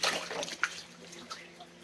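A pet bird named Spice splashes in a shallow Epsom salt bath, making soft, close water flicks and trickles that come in a few quick bursts.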